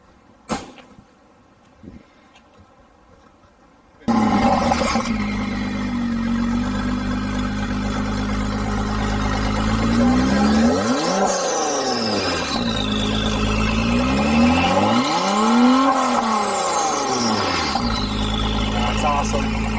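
A 2019 Acura NSX fires up after a few quiet clicks, its engine catching loudly and settling into a steady close-up idle, then rising and falling through two swelling revs, with people talking around the car.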